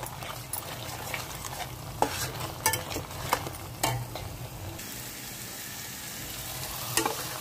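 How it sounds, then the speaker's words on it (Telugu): Masala sizzling in a pan for a restaurant-style mushroom curry while a spoon stirs it, with steady frying hiss and a few sharp scraping clicks against the pan, close by, and no one talking. "మసాలా వేగిందండి"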